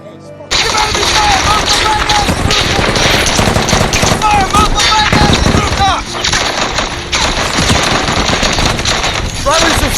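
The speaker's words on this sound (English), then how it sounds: "Jack's men engaged in a firefight with Al-Qaeda members" Dense machine-gun bursts and rapid gunshots roar loudly and almost continuously through a war-film firefight against Al-Qaeda fighters at a house, with sharp cracks layered over a heavy rumble.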